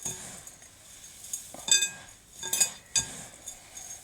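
Lavender bath salts mixed in a glass bowl with a utensil, giving sharp clinks and scraping taps against the glass in irregular bursts, close and clear with no talk.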